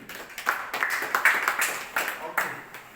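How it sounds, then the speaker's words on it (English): A small classroom group claps for a student after a presentation on optical fibres, a short run of uneven, moderately loud claps lasting about three seconds. "Let us clap for him."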